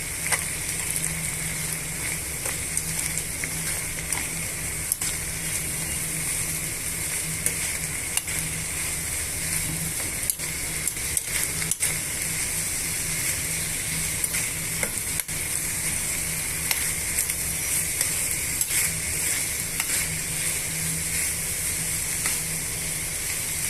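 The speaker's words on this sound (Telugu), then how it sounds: "కర్రీ మసాలా కూడా వేస్తున్నానండి ఇప్పుడు ఈ మిక్చర్ అంతా బాగా మిక్స్ చేసేసుకోవాలండి" Potato curry with curry masala sizzling steadily in a pan while being stirred, a continuous frying hiss with frequent scraping stir strokes throughout, close and alone.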